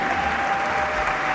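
A brief burst of audience applause at the Luminas event, steady dense clapping from a crowd lasting just over a second.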